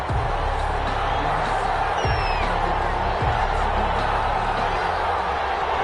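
Unbroken stadium crowd noise from a Madden NFL game, Arizona Cardinals against the Detroit Lions, a loud constant roar of cheering with a couple of brief thuds and a faint whistle-like sweep mixed in.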